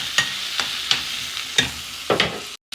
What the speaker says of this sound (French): Je rajoute des oignons que j'ai coupés vraiment finement. Et je vais laisser dorer un petit peu.